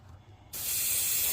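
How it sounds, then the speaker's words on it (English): After a moment of quiet room noise, a steady airbrush hiss spraying varnish onto a tank model starts abruptly and continues evenly, close and fairly loud. "You gotta spray it really wet"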